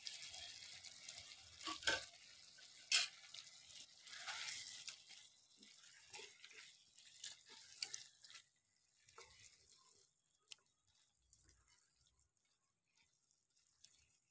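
Soft sizzling and scattered spits and pops as fried capsicum and onion go into a pan of chicken patiala, irregular close crackles that grow sparser and fainter over time, with no talking.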